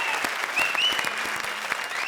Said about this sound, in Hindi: कृष्णा के लिए जोरदार तालियां भाई